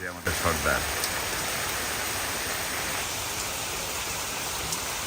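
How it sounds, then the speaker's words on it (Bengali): Heavy rain pours down in the Sundarbans, a dense, steady hiss of falling water that starts abruptly and continues evenly at moderate loudness. "এত সুন্দর বৃষ্টি হয়"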